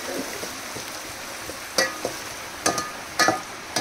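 Onions sizzle in a pan for crab curry on a village wood-fired clay stove, a soft steady frying hiss broken by several sharp scraping stirs of a spoon.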